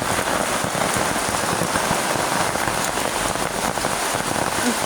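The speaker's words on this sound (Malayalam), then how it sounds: "നല്ല മഴയാന്നേ ദീപോ, ശ്രദ്ധിച്ച് നടക്കണം" Heavy rain pours down in a steady, dense hiss with constant patter on surfaces, close and uninterrupted, with no talking.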